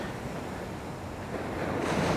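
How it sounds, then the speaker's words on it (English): Modest ocean surf washes in as a steady broad rush near the shore, with light wind buffeting the microphone and a swell of louder wave noise near the end. "Not big surf out here, and that's okay"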